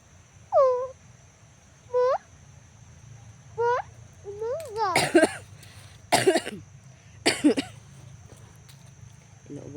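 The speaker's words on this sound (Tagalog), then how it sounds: "Inuubo pa rin ako." A person coughs repeatedly indoors, harsh bursts in short clusters over a steady background hum, with a few higher squeaky calls between them.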